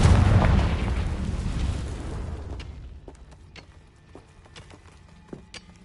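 The Bombarda blasting spell in Hogwarts Legacy goes off as a loud, deep boom right at the start, then trails away into a long rumbling decay scattered with small crackling debris pops.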